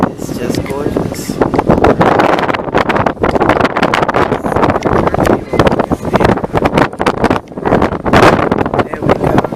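Strong wind gusts across a cruise ship's open deck at night, a loud, steady roar buffeting the microphone with brief lulls, and indistinct voices underneath.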